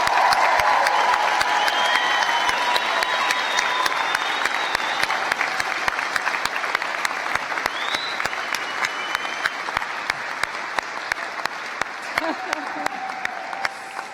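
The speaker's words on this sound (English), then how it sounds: "we need another big cheer for everybody who has received a degree, a diploma or a certificate today" A graduation ceremony audience at Anglia Ruskin University applauds and cheers loudly for degree, diploma and certificate recipients, steady dense clapping with scattered whoops that gradually eases toward the end.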